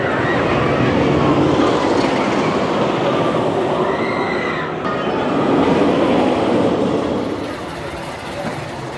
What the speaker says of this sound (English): So we're on the railroad right now.